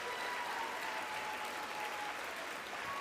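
Steady applause from a crowd in the Smite video game, many hands clapping continuously at an even, moderate level for the whole stretch, with no voices standing out.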